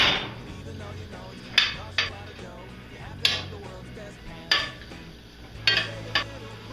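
Metal spoon scraping and knocking against a pot while meat browns with salt and garlic, sharp clanks recurring every second or so over a steady low sizzle and background noise.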